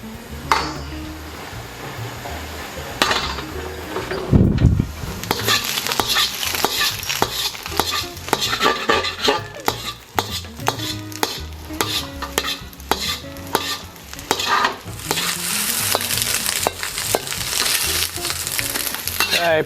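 A hot oiled wok stir-frying for Singapore noodles gives loud, close hissing with repeated metallic spatula scrapes and clanks against the pan, rising into a fierce burst of sizzling midway, no speech.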